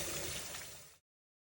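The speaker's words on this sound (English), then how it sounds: "clean this chicken, and I am using lukewarm water" Lukewarm tap water runs steadily for about a second while raw chicken is rinsed in a kitchen, a soft, faint hiss that cuts off abruptly.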